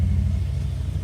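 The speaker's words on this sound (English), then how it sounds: "Here's the Harleys." Harley-Davidson motorcycles rumble past on a narrow village road near Kapalua, Maui, a steady loud low-pitched engine drone filling the whole moment with no talk over it.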